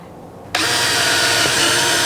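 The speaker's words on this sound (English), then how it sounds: "now I'm going to switch over to a 1/8 drill bit and drill straight center of" Power drill boring a 1/8 inch hole into the center of a part for a bow motorization kit, starting abruptly after a quiet moment and then whining at a steady, loud, close pitch until the end.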